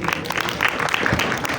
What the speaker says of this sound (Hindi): चलिए ठीक है, तालियां बजा दें।